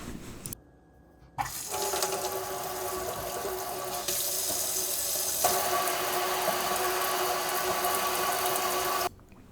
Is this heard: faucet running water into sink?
yes